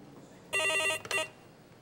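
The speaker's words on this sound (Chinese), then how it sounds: "接电话。" An indoor telephone bell rings at a nursing station, one long electronic ring followed by a short second burst, clear and alone against a quiet room.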